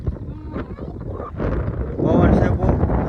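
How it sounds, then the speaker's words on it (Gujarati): Strong wind buffets the microphone on a hilltop ridge above a village, a steady roaring rumble that swells louder toward the end while someone talks over it. "પવન છે બહુ"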